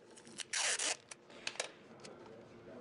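Adhesive tape pulled off the roll and wrapped around bean-filled shaker containers, one long loud ripping strip followed by a few shorter, fainter tugs, close by and without speech.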